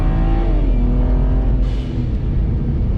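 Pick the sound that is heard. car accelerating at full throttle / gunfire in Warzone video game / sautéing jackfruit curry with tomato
car accelerating at full throttle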